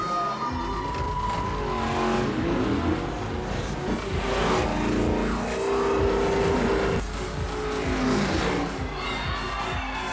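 Race cars in a racing arena during a film street race, with engines roaring and revving together in a dense, loud wash while a crowd cheers and shouts underneath and a voice speaks.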